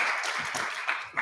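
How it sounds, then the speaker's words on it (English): Brief applause from an audience at a Southern University alumni campaign event, a short burst of clapping at moderate distance. "So please give him another round of applause."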